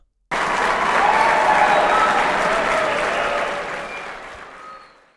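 A crowd applause sound effect: a large crowd bursts into loud, steady applause that holds for several seconds and then gradually fades away.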